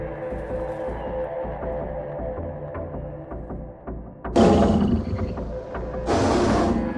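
A cartoon lion roars in an animated Telugu moral story, two loud, rough bursts rising abruptly out of a quieter rumbling music bed.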